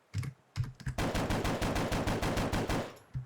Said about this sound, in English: I really like this pistol. It sounds super baller.